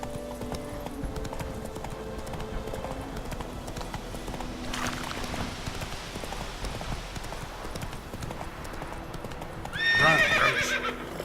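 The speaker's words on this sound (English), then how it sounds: "Run, Roach." Roach the horse gallops in The Witcher 3, steady clip-clop hoofbeats running throughout over game ambience, ending with a loud neigh near the end.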